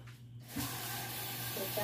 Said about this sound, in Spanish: Y vamos a echarle el agua.